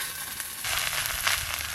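Susni greens frying in a hot pan sizzle steadily, swelling into a louder hiss as a little water is sprinkled over them, with a sharp burst of spatter at the very end.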